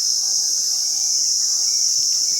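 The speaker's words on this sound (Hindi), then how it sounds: "ये जो पेड़ पे बैठे रहते हैं ना पंछी कीड़े वगैरह, उनकी आवाज़ है ये" Birds and insects in trees as darkness falls, a loud, continuous high insect trill with faint bird chirps beneath, steady and unbroken, no talk.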